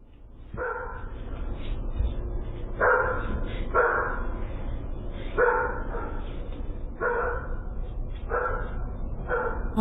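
Several dogs bark repeatedly in clustered volleys over a constant low rumble, loud and fairly close, with no speech.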